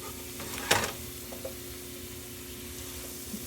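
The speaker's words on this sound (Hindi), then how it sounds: "समझ लें शैलो फ्राई कर रहे हैं हम." Food shallow frying in a pan gives a quiet, steady low sizzle with one brief clattering stir near the start and a couple of faint taps later, and no talking.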